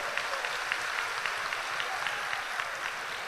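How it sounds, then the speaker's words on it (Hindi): Applause from a large crowd at a religious gathering in India, a fairly distant, steady wash of clapping lasting the whole stretch without voices on top. "एक बार जोरदार तालियां इनके लिए हो जाए"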